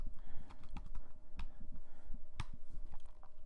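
Typing on a Mac computer keyboard, a quick irregular run of soft key clicks close by, with no talking.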